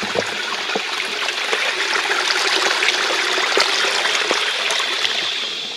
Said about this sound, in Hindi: और यहाँ पे पानी बह रही है,